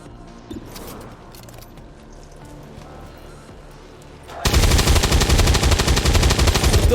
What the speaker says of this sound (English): Full auto fire is barely going to dent them, is it?